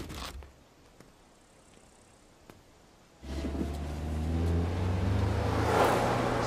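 A car engine starts and revs up loudly after a quiet stretch with a few faint clicks, its low rumble rising and holding steady to the end, with no talk.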